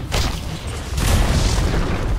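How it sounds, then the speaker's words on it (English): Booming impact blasts from a Dota 2 match as a bottom tower comes under attack, a loud dull thump near the start and a second, heavier burst about a second later, with rumbling low end throughout. "Dire's bottom tower is under attack."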